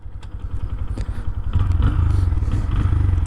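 A Honda Grom small motorcycle starts up and pulls away on an old closed highway, the single-cylinder engine catching with a clatter and then buzzing loud and close as it revs and accelerates.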